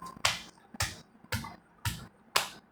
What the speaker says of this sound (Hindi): कभी कभी पैरों की भी ताली बजाइए इस प्रकार